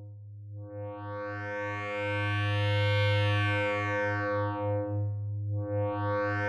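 Synthesizer sine wave run through a wave multiplier section, sounding as a rich, harmonically dense sustained tone with a pulsing low end and sweeping upper overtones that swell and fade twice, steady and alone.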